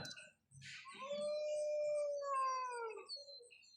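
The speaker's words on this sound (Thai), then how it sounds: "อันนี้คือการหอนนะครับหอนแล้ว" A wolf in a wolf-hunting online video game lets out a long, clear rising and falling howl, loud and close, preceded by a brief rustle and a short yelp.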